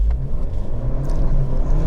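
Low engine rumble from a 2025 Toyota 4Runner Trailhunter pulling away from a stop, a steady, loud drone throughout with no talk.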